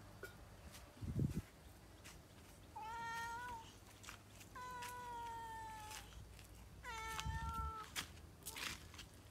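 A cat meows several times in drawn-out, wavering calls, close and clear, with a soft thump or footstep early on and quiet room noise between the cries.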